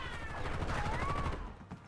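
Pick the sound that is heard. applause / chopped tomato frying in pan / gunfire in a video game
gunfire in a video game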